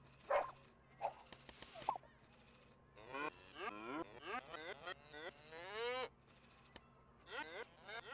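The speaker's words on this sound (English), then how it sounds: "We always thought Elderflower the cow was barking" A synthesized cow moo from the video game Avalonia repeats several times, short low calls then longer wavering ones, with electronic game-like tones between them.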